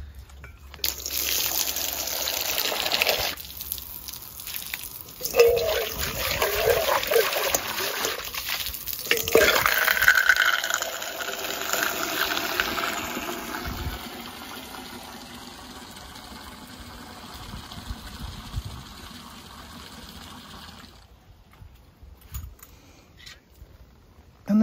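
Water is poured out and refilled, with a long close trickling and splashing stream that rises and falls for about twenty seconds before stopping.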